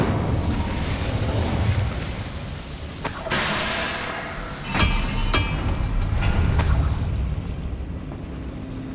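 An Incendio fire spell is cast in the Hogwarts Legacy game, producing loud, booming bursts around three and five seconds over a constant dense rumble of game ambience. No one speaks.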